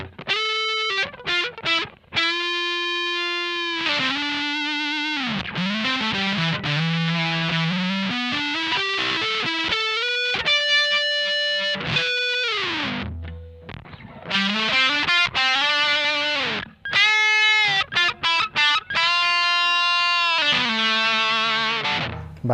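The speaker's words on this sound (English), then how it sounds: "So I'm just going to show a little bit of lead work now at these higher gain levels. I'm going to start with the Rat" A high-gain electric guitar lead runs through a ProCo Rat distortion pedal, playing sustained, bending notes and quick runs with short pauses between phrases. The tone is thick, saturated and loud, with no voice over it.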